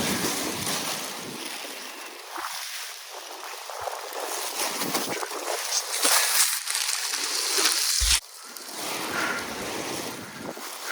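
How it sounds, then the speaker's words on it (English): Strong outdoor wind after a flight buffets the microphone in a steady, loud roar with gusting swells and a brief drop near the end. "Really nasty wind."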